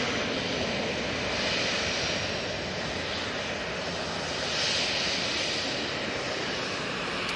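Boeing 737 airliner coming in to land at Manchester Airport, a soft but steady broad engine rumble that swells gently twice, alone and fairly distant.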